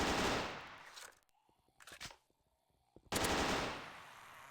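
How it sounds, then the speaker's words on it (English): Bursts of rapid automatic gunfire in a zombie first-person shooter video game, a loud volley, a quieter patch with scattered shots, then another loud sustained burst. "Give me suppressive fire."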